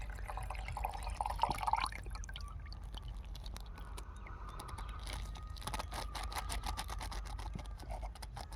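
Wheat seed being mixed into a bowl of muddy water by hand: soft, close sloshing and dripping with small liquid splashes, steady and quiet throughout.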